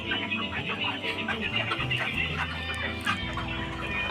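A dense chorus of many broiler chickens clucking on a farm fills the space with steady, overlapping chatter, while a person talks over it.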